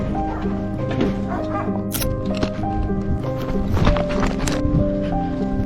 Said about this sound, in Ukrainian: Я чую собаку!